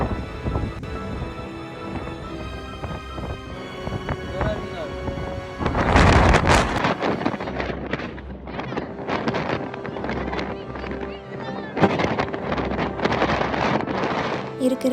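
Heavy gusts buffet the microphone on the windy summit of Roseberry Topping, roaring and rumbling in loud surges throughout, with speech intermittently heard beneath the wind.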